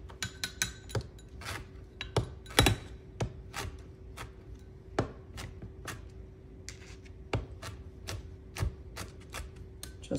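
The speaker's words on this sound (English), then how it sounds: "I'm just gonna kind of give it a rough chop." A knife rough-chopping drained pineapple on a cutting board for al pastor salsa: irregular sharp, close knocks at an uneven pace, fairly loud against a quiet room, no voices.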